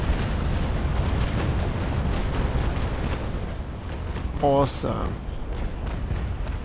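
Broadside from sailing ship cannons in the Naval Action naval battle game, a rolling series of heavy booms and blasts over sustained battle noise, with a brief whistling burst near the end and a voice speaking.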